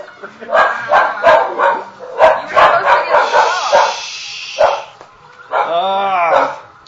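A dog gives a series of loud nearby barks and yips, then a whining cry, with people talking and laughing around it.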